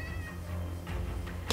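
Cat meowing in a Minecraft VR game, a clear drawn-out meow followed by shorter cries, fairly close and alone with no talk, and a sudden bright burst of noise at the end.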